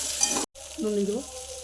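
Potato and eggplant frying in hot oil, a steady broadband sizzle running throughout with a brief cut in the middle, a faint low tonal hum underneath and no talk.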